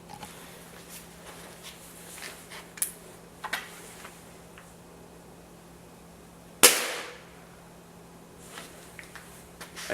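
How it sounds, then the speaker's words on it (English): A single sharp crack as a pellet rifle fires a BB, loud and close with a brief decaying tail, preceded by a few faint clicks and handling sounds over a low steady hum. "we are going to shoot a BB out of the pellet rifle"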